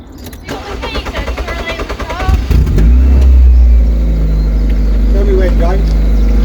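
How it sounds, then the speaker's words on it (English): A Ford Puma's engine cranks and catches partway through, then settles into a loud, steady close-up idle and rumble as the car is about to be moved, with people talking beforehand. "I've got to move the car."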